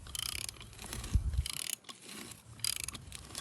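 Socket wrench twisted around a sprinkler head to clear the roots: bursts of rapid ratcheting clicks, close and fairly loud, separated by short pauses.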